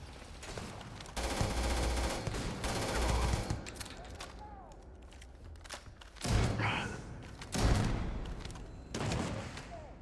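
Rapid bursts of gunfire from a high-capacity gun in Starfield, several sustained volleys separated by brief pauses, loud and close with some sharper single shots between them.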